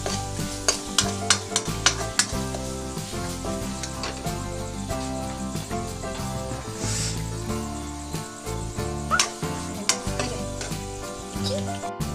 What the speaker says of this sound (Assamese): এয়া মছলাখিনি ভাজা হৈ গ'ল।